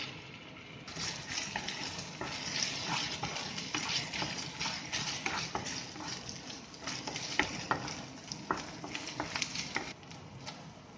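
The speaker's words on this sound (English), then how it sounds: "So now we will be adding 1 tablespoon of ginger garlic paste." Ginger garlic paste frying with onions in a pan, a steady broadband sizzle with scattered crackles and stirring scrapes running throughout, close and fairly soft.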